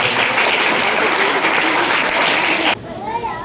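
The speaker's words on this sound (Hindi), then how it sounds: "इन सभी बच्चों के लिए फिर से जोरदार ताली" An audience at an Independence Day program applauds children's dance, poem and speech performances, with loud, dense clapping from a crowd that cuts off sharply near the end, giving way to quieter sounds.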